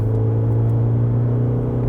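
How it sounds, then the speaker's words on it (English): Inside the cabin of a 2022 Isuzu MU-X, the diesel engine at full throttle makes a loud, steady low drone and rumble that holds without letting up. "kind of a pretty noisy diesel that comes into the cabin"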